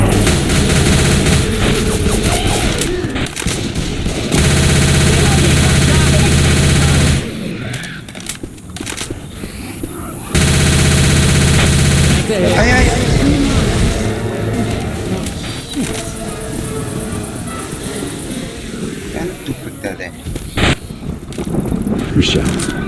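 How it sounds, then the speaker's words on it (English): Machine gun fire in Left 4 Dead 2, loud sustained bursts of rapid automatic shots in two long stretches separated by gaps, amid game noise and chaotic combat sounds, with voices speaking over parts of it. "Taking the machine gun."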